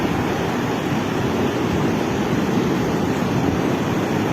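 Water waves wash in with a continuous, loud, even roar of surf and spray, with no pauses and no voices.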